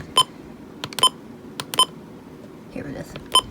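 Midland WR400 NOAA weather radio alarm sounding during a monthly test: several short, sharp, close beeps at irregular intervals, with a person speaking quietly between them.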